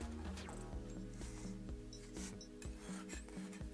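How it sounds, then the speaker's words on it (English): A big palette knife scrapes paint off a canvas in repeated rasping strokes, close and steady over low background hum. "I'll need the big palette knife for this"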